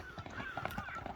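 A horse gallops in a horse race. The quick, rhythmic hoofbeats sound faint and somewhat distant, with a thin high tone and some voices mixed in.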